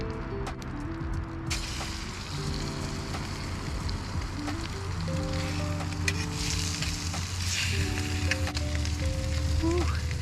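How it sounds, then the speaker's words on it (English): Trout sizzling in a hot pan while being cooked outdoors in the Oregon mountains, a steady close crackle and hiss with scattered pops, alongside background tones and faint voices. "Whew, it's sizzling."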